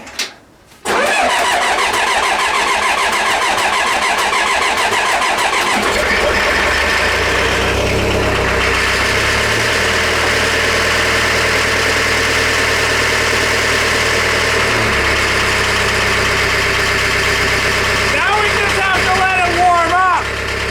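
A car engine cranks and catches, then settles into a steady, loud idle with a deep drone, revving slightly near the end.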